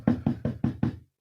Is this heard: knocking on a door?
yes